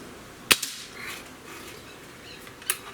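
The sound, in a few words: shot from Cometa 94 breakbarrel air rifle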